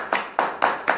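Four sharp, evenly spaced hand claps close by, each a crisp burst at a steady rhythm, offered in thanks to a revered guru.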